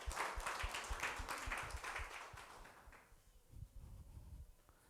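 Applause from a congregation at a Telugu church service, a dense burst of clapping that swells for a few seconds and then thins into scattered claps.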